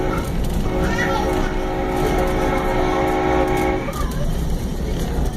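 A train horn sounds in a long sustained blast over loud, steady rumbling rail noise, then cuts off, leaving the rolling clatter.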